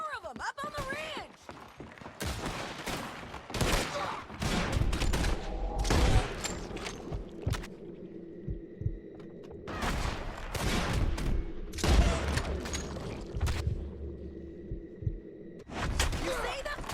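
A gunfight in Red Dead Redemption 2 brings repeated sharp gunshots in scattered volleys and bursts, loud and close, with in-game voices calling out between some of the shots.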